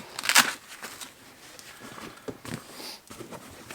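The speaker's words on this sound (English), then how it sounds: "These handles here also do Velcro together." Velcro straps on a MEC range bag for sporting clays are pressed and pulled, giving a loud crackly rip early on followed by softer scratchy rustles and taps, close by.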